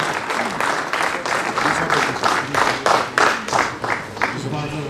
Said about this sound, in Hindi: Can we have a big round of applause for mister Irfan?